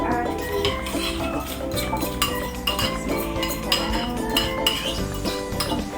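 Egg and dough ingredients for cheese ube pandesal are mixed in a bowl, with busy, close clinking and scraping of a utensil against the bowl.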